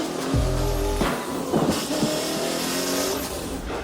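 An Audi race car drives hard, its engine droning and revving up and down with a few sharp surges and a brief tire squeal, loud and close with no talk.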